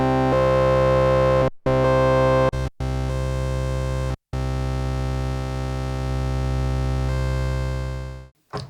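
A sustained Bass Station 2 analog synthesizer tone with analog drive engaged, thick and buzzy with rich harmonics, held for several seconds with a few abrupt cuts and small pitch shifts between notes.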